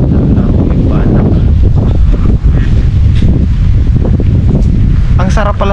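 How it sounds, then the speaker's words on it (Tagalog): Strong wind buffets the microphone in a constant loud roar near the water, with a voice briefly heard over the gusts at the end. "Ang sarap ng hangin. Napaka ano talaga ng hangin oh, napaka presko. Ang lakas."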